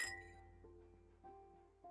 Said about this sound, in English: The glasses clink melodically.